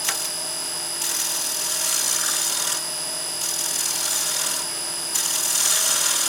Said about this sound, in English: This is a 1 1/4 inch chisel, but you can do very, very delicate work with it.